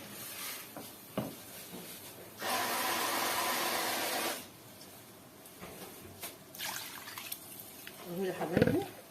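Water is poured into a pot of sautéed rice on a home stove, a steady two-second rushing splash in the middle of the clip, surrounded by quieter kitchen clatter and bubbling.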